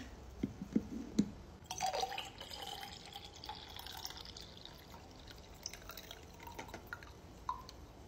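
Breast milk pours and drips from the spout of KISSBOBO breast pump cups: faint, irregular liquid trickles and droplets, quiet and close, with a few sharper splashes near the start.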